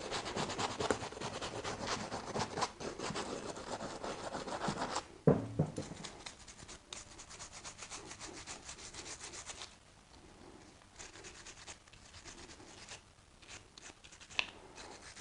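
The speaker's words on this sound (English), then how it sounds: "it's not a wire brush, it's just little plastic bristles" A plastic-bristle brush scrubbing loose paint off a motorcycle exhaust, close and continuous rapid rubbing strokes, louder at first then lighter and more intermittent, with no talking.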